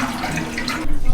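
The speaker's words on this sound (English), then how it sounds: "What you need to do is flush all that water out." Water rushes in a toilet tank being flushed during a repair of a leaking tank with rusted bolts, a close, loud gushing swirl that surges near the end.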